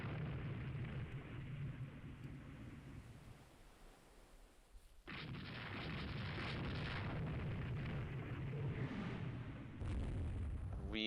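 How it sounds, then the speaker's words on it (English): Incoming 8-inch shells in the naval battle game Rule the Waves 3: a steady roaring rumble of explosions and splashes that dips for a moment, then surges louder and stays sustained and heavy, with no voices. "We got 8-inch shells coming in."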